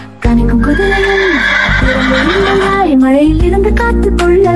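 In an animated Tamil children's worship song, a horse whinnies loudly with a long wavering neigh that rises and falls, alongside clip-clop hoofbeats and backing music.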